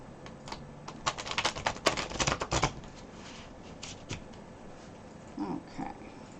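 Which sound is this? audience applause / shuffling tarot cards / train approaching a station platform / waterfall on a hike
shuffling tarot cards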